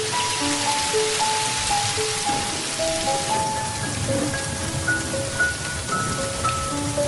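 Steady rain pours down in a film scene, a dense continuous hiss of drops on surfaces with sustained tonal music playing over it throughout.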